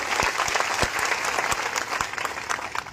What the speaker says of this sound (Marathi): टाळ्या वाजवायचा बंजारा समाजासाठी